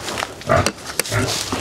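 A pig in a pig pen giving several short grunts and snorts in irregular bursts, close and fairly loud, with a couple of sharper squeaky oinks among them.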